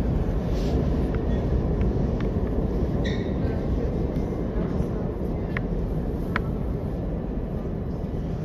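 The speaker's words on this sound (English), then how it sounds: "The train curving out of DeKalb." A New York subway train curves out of DeKalb Avenue station, its steady rumble filling the space with intermittent metallic squeals and clicks from the wheels on the curve.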